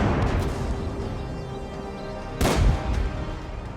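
A loud booming tank cannon blast in a video game cuts through a constant rumbling background of engine noise, with a heavy low-frequency thump.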